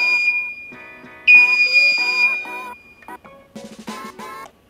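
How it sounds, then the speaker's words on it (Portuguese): A steady high-pitched electronic alarm tone from a Danfoss EKE 347 controller sounds continuously and loudly, with a brief louder burst, under someone talking. "vai disparar o alarme"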